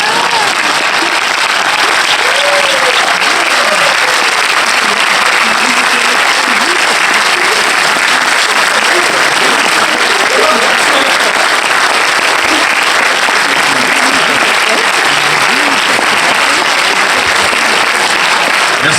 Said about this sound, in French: je vous demande d'applaudir quelqu'un que vous connaissez pas avant ce film, la maman de Gloria en quelque sorte, Antoine Bertrand qui joue Bernie